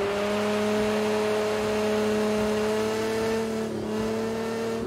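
A Nissan GT-R Nismo engine in Project Cars 2 on a snowy winter track, holding a steady high-revving drone with a brief dip near the end, loud and close.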